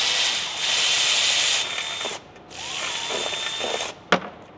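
A ratchet clicks steadily as it backs out the last transmission pan bolt on a Ford 10R140, close and bright. There are short pauses between runs of clicks, a sharp knock near the end, and a brief spoken word.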